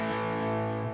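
Electric guitar run through a GTX 100 with a long delay effect: a sustained, distorted chord rings loud and steady with layered repeats blending into the tail, no voices over it.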